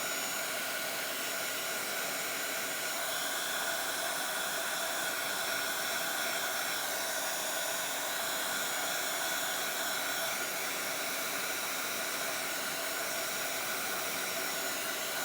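A hair dryer blows on a wet Bible journal page, a steady, loud, unbroken hiss and whir that runs throughout at an even level.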